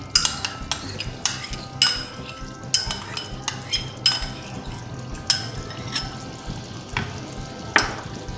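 A spoon scrapes and clinks against a pot as cream is stirred into white chicken korma. The sharp, repeated strokes land roughly every half second over a low sizzling bed, close and alone with no talking.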